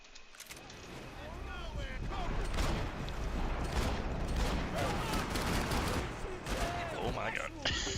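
Video-game gunfire from Max Payne 3, a run of quick shots and mechanical clatter under a loud, busy mix, with someone talking over the action.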